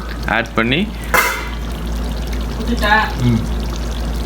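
Water pours steadily into a pot of rice and mutton for Ramadan biryani, a continuous close splashing stream beneath a person speaking in short bursts.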